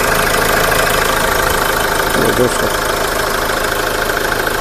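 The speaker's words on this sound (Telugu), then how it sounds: "ఈ మైక్ వల్ల కొంచెం బీటింగ్ హార్డ్ వస్తుంది, కానీ బీటింగ్ అయితే ఒరిజినల్." A Mahindra XUV500 W8 diesel SUV idles with a steady, dense, close rumble and a rough beat throughout, while someone says a brief word over it.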